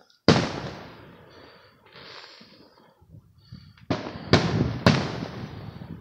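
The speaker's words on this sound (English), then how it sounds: "Englewood Fireworks." A sharp firework blast followed by crackling decay, then after a lull three more loud bangs in quick succession, each trailing into crackle, at a fireworks display in Englewood, New Jersey.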